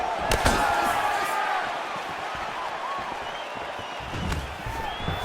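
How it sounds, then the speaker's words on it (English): Fight-game crowd in EA Sports UFC 4 swells with a cheer and applause as a takedown lands, a brief loud burst that settles into a steady arena murmur, with sharp impact thuds at the start and end. "Oh, nice pop there from the crowd as he finally gets the takedown."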